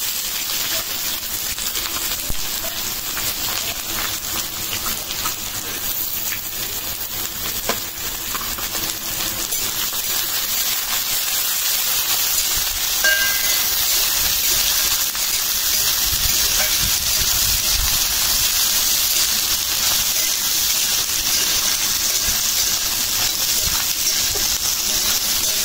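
Sliced onions frying in hot oil with dried red chillies, bay leaves and cumin for a duck curry, giving a steady loud sizzling hiss throughout with no talk.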